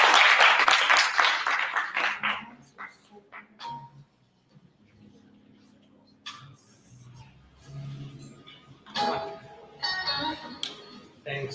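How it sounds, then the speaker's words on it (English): At a cyber security summit in Africa, an audience applauds, a dense burst of clapping that thins out into scattered claps, followed by someone talking over light room noise. "Let's give him a round of applause, please."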